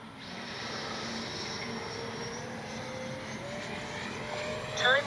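A Freewing MiG-29 RC jet flies overhead with a steady, fairly distant whooshing electric ducted-fan roar that slowly shifts in pitch as it passes, growing slightly louder at the end.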